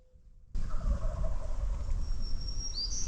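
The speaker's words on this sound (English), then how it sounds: "So we just got this bird to gobble." A wild turkey gobbles during a spring hunt in Kentucky, a loud, rattling gobble bursting in after near silence and carrying on for a few seconds, with faint bird chirps above it.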